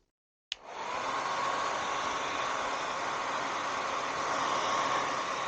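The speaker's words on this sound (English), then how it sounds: "we're going to kick on the Wise hair dryer" Wise hair dryer switched on with a click and then a steady, close, even whoosh of hot air blowing onto vinyl film on a motorcycle windshield, with no talk.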